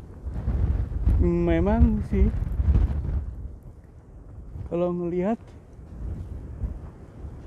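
Strong wind gusts during a snowstorm in the Netherlands, a loud, steady rushing roar buffeting the microphone, with someone talking over it.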